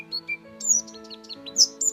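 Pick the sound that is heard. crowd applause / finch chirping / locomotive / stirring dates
finch chirping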